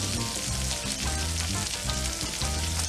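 Shrimp sauté in a hot pan with a dense, continuous sizzle, close and steady, alongside faint rhythmic scraping or stirring and no voices.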